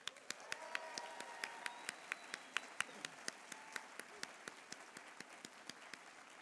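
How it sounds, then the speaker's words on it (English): Faint, evenly spaced clapping from a sparse audience at the Harvard Medical School Class Day 2017 ceremony, a steady run of single claps at a quick regular rhythm, distant and thin rather than a full ovation. "Let's give a round of applause."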